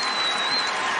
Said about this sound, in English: this crowd on their feet in appreciation